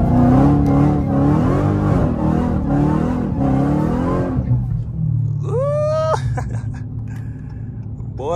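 A Dodge Hellcat engine pulls hard in second gear, a loud, steady roar at first that drops to a lower drone, with a brief rising squeal near the end.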